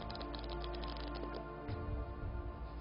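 Playing cards are shuffled close up, a quick crisp ruffle of flicking cards, then a softer settling clatter as the deck comes together.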